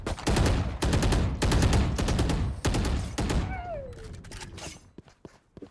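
Rapid gunfire from the video game Valorant, loud, dense bursts of shots packed close together, fading toward the end with a few scattered single shots.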